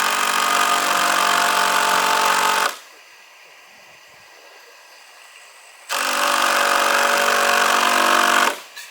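A power tool drives screws into a wooden post on a straw-house building site in Šventoji, two long loud continuous whining runs separated by a quiet pause.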